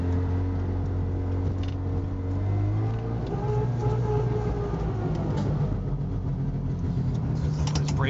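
Small two-stroke engine of a red Subaru 360 Sambar van running steadily while driving, a continuous close buzz and hum heard from inside the cab with gentle rises as it pulls away in first gear.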